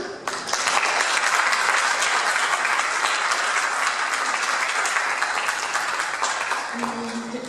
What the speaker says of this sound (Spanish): pedimos un fuerte aplauso